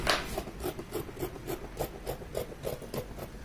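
Scissors cut along a marked line in fabric for a sleeve, a steady series of about a dozen soft, rhythmic snipping crunches at close range with no talking.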